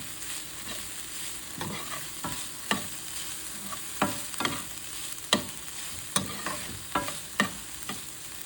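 Onions fry in a pan as a spoon stirs them, a soft steady sizzle broken by repeated scraping strokes against the pan every second or so, close and clear with no talking.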